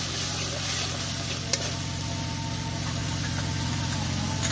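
Spices with salt, turmeric and a splash of water sautéing in a pan while being stirred, a steady low sizzle under a constant background hum, with one sharp clink midway.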